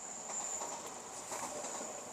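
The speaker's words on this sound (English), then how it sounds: "Another train going by." Train rolling past, a steady mid-distance rumble with a faint high hiss and soft clatter, heard alone without talking.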